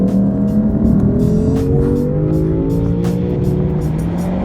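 A 2023 Lexus IS500 F Sport engine revs hard toward 7,300 RPM, its steady roaring pitch climbing and holding loud and close throughout.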